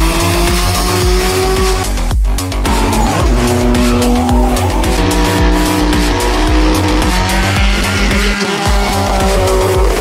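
A car lapping the Tor Kielce race track, engine loud and close, revving up and down through gear changes as the tyres squeal and slide through corners.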